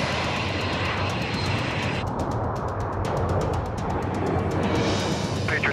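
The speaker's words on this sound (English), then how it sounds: "Six airplanes in the air." Six black jets of the Patriots jet team flying at an airshow, a loud steady roar of jet engines that holds throughout with no voices over it.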